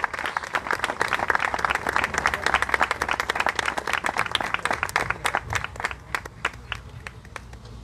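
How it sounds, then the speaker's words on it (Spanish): Audience applause at a Guardia Urbana anniversary ceremony in Rafaela as an agent steps up for a distinction; dense steady clapping fills the space for several seconds, thinning toward the end into scattered individual claps. "Lo recibimos con un aplauso."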